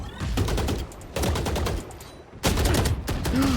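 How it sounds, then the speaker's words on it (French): Gunfire from the tactical shooter game Valorant comes in several rapid bursts separated by brief pauses, loud and close throughout. "Munitions tirées."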